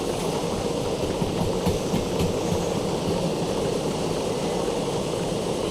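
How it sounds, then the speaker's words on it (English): A train rolls along steadily in the Derail Valley video game, giving a continuous rumbling wash with faint rhythmic clatter at a moderate level. No one speaks. "Like the train seems quieter than usual."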